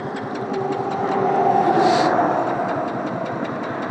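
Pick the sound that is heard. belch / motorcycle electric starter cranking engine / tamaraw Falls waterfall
motorcycle electric starter cranking engine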